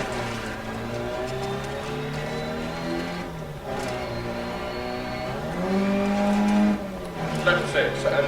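Rally car engine in the Dirt Rally video game, a steady droning note whose pitch climbs and drops through manual keyboard gear changes, swelling louder near the end with a brief tyre scrabble, under continuous co-driver pace-note talk.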